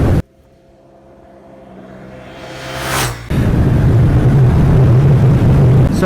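A 2014 Yamaha MT-07 motorcycle on a test ride drops a gear into a corner, its engine note rising steadily with a quick blip before a loud burst of wind-buffeted riding noise takes over.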